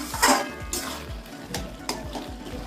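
Taro leaves are stir-fried in a pan for Bengali kochu shak. A spatula scrapes and clatters against the metal in a steady series of close strokes, with a soft sizzle underneath and no talking.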